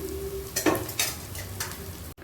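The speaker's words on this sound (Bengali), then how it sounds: "এবার আমি ভেজে রাখা ডাল দিয়ে দেবো।" Pre-fried lentils are added to a hot pan and stirred for vegetarian khichuri, giving a soft sizzle with a few scraping stir strokes and a brief clatter. It is quiet and close, with no speech.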